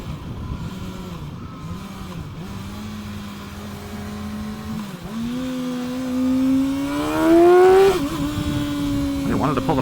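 A 2025 Kawasaki ZX6R 600 sport bike, its engine droning and then revving up in rising pitch sweeps, loud and close, with a brief dip between pulls and a voice talking over it.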